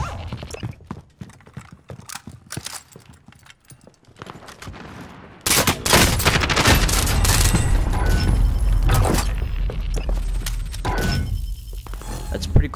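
Video game gunfire crackles in dense fusillade bursts, loud and continuous through the latter half after a quieter, sparser stretch, with talk mixed in.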